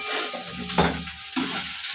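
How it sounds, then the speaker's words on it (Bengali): Onion and green beans fry in a wok (kadai), a continuous close sizzle broken by a couple of scraping stirs against the pan. "ওদিকে আমার পেঁয়াজ আর এটা ভাজাভাজি হয়ে গেছে, তার সঙ্গে আমি বিনস দিয়ে দিলাম।"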